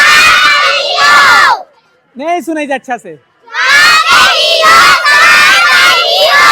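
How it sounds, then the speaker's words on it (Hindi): A crowd of village children shouts loudly in unison before an outdoor film screening, with two long roaring bursts around a short pause where one voice speaks. "लड़का भयंकर तेज चिल्लात रहे"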